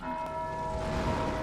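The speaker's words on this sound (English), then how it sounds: "I had no idea he would attack the bell like that." An enemy strikes a bell in the Dark Souls video game, producing a single sustained, ringing metallic tone that hums steadily at moderate volume for the whole moment without voices.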